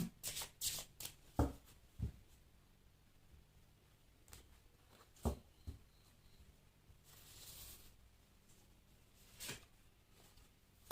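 Oracle cards being shuffled for a Thai horoscope reading, quiet papery riffles and slides broken by several sharp taps and flicks at an uneven pace, with no talking.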